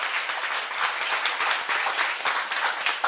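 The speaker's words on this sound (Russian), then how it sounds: "хлопайте сильнее." An audience bursts into dense, sustained applause, many hands clapping steadily at a lively level across the short span, with no voices standing out.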